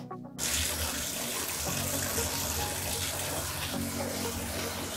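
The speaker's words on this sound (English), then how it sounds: "As I'm turning the water on" A tap is turned on to fill a bath for a rescue dog, bursting abruptly into a loud, steady rush of running water that continues unbroken.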